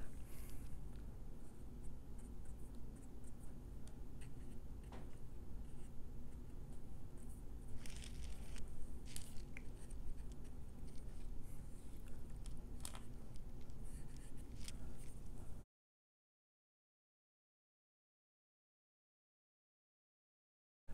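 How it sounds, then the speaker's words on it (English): A damp size 6 watercolour brush loaded with Prussian blue and turquoise drawn across paper: a soft, close, continuous scratchy swish with a few brief sharper strokes, ending abruptly in silence, no talking. "you can just kind of draw that out with a damp brush, like so"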